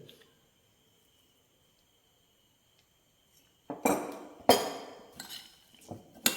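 Finger millet flakes salad being tossed with dressing in a bowl: after a quiet stretch, a few loud clattering, clinking utensil-and-dish bursts come close up in quick irregular succession, with no talk.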